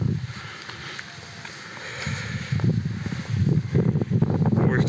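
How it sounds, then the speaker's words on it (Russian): Strong, cold wind gusting across an exposed mountaintop near Sudak in Crimea, a steady roar that swells louder and more turbulent toward the end, buffeting the microphone with low rumbling gusts. "Ветрище сегодня и холодина."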